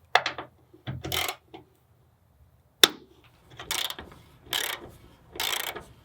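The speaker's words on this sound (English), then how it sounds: "You just remove this one bolt right here and bolt it right on." Ratchet wrench loosening a 12 mm bolt on a Nissan Frontier's hood bracket for a ditch light mount, heard as several bursts of quick clicking separated by short pauses, close up with no talking.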